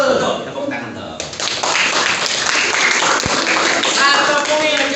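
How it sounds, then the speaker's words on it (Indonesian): Schoolchildren clap for a correct answer in a classroom civics quiz, a dense burst of applause starting after a brief moment of talk, with voices mixed in throughout. "Tepuk tangan dong."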